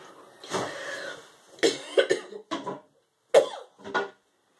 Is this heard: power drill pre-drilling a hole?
no